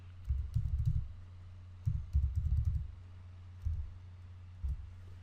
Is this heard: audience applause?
no